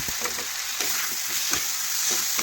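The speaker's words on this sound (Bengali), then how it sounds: "একটু নাড়াচাড়া করে মিশিয়ে নিচ্ছি।" Cauliflower, potato and carrot frying in spices are stirred in a pan, giving a steady close sizzle with soft scraping strokes repeating every half second or so.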